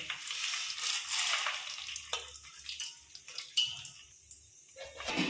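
Dry red chilies, mustard seeds, cumin, chana dal and urad dal frying in hot tempering oil, giving a steady crackling sizzle with a few sharper pops and stirring scrapes, close and fairly quiet, with no talk.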